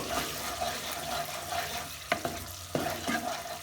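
A spoon stirs paneer curry masala in a pan after salt is added. Quiet sizzling and soft scraping run throughout, with a few sharper clinks of utensil against pan near the end.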